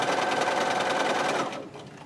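A sewing machine runs a quarter inch seam on quilt fabric, its close, loud, rapid stitching chatter sustained before winding down and fading out.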